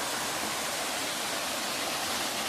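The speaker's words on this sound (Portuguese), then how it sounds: "a primeira cachoeira, a primeira queda." The first waterfall on the Guairoba stream in the Serra da Jibóia gives a steady, dense rushing roar of falling water that is unbroken throughout, with no voices.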